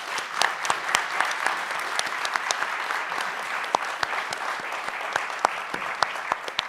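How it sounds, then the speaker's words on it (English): An indoor audience at a workplace speaker series claps for a panel, a dense, even round of applause that holds steady throughout with scattered sharper individual claps. "let's give another round of applause to our panel"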